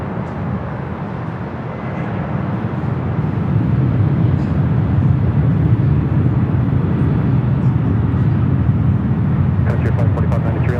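A Delta airliner taking off from runway 24 left at Los Angeles airport. A loud, broad jet roar builds and holds steady under air traffic radio chatter.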